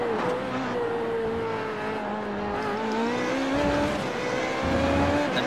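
A race car in the iRacing sim roars steadily at high revs, its engine note rising and falling with gear changes, loud and continuous with no talk over it.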